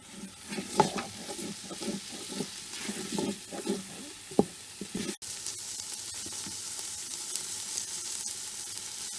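Beef short ribs sizzle on the saute setting of a Power Quick Pot pressure cooker, a steady close frying hiss broken by stirring and scraping knocks in the first half, then an even, quieter sizzle.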